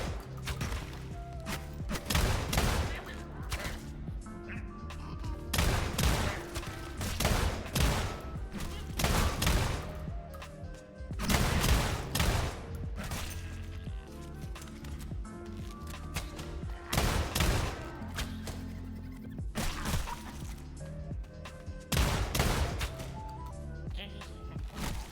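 Pistol shots in a video game, loud cracks that come in scattered clusters across the span with thuds between them and a little background voice.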